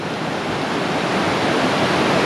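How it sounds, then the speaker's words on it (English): A river flowing alongside a trail near Salt Lake City, making a steady, full broadband rush of water that stays loud and even throughout, with no talking. "the river I kind of follow"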